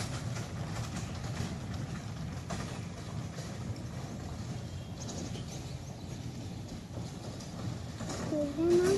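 A small children's amusement train on a test run rumbles steadily nearby with a soft rhythmic clatter, fairly quiet and continuous throughout.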